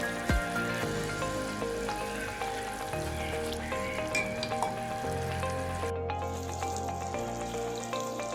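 Minced keema fries and sizzles in a pan with yogurt added, a loud close crackling hiss with repeated stirring scrapes and a brief break before it resumes, no voices.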